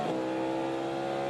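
Porsche GTP prototype race cars brake and pass at Road America, a loud, steady engine howl with a slight pitch shift at the start, sustained throughout as the cars run close together.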